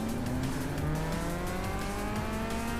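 A car engine in the Gran Turismo 6 racing game drones loudly and steadily, its pitch climbing slowly as it accelerates, with a faint tire hiss and no pauses.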